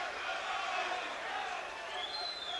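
Crowd in a boxing arena reacting, a faint, steady murmur of many voices with light shouts, heard at a distance under a commentator's talk.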